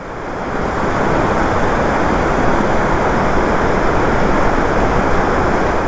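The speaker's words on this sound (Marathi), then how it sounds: "पाणी वाहत आहे फोर्सली पाणी वाहत आहे फोर्सली" Powerful, steady roar of water rushing forcefully at a dam near Panvel, loud and continuous throughout with a dense broadband wash and no pauses.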